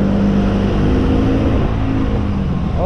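Engine of a 2022 Lambretta scooter on a road test ride, a steady loud motor drone with wind rumble and slight revving.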